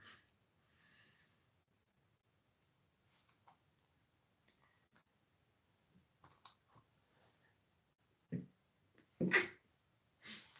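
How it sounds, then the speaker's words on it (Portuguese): A single sharp sneeze from dust allergy bursts out near the end, preceded by a few faint sniffs and small clicks in an otherwise quiet room. "E até eu espirro agora de poeira, rinite alérgica."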